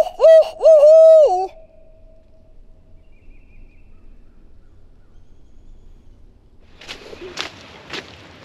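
A turkey hunter's owl hoot, a person imitating an owl, rings out loud and close as a rapid run of wavering hoots at the start, followed by quiet woods and a few soft rustling steps near the end.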